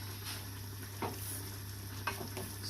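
Aubergine slices, cut about 1 cm thick, fry in a large frying pan with a steady low sizzle, broken by a few brief scrapes or stirring knocks around one and two seconds.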